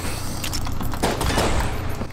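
Starting gun firing in the video game Enter the Gungeon: a steady stream of quick, overlapping shots layered over dense game noise and music, continuous and loud throughout.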